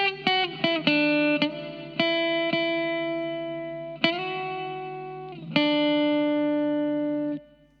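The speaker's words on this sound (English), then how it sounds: "I added this live guitar riff" A live electric guitar riff recorded for a soul sample, clean sustained notes picked one after another in a slow, uneven rhythm with ringing tails, played alone with no talk.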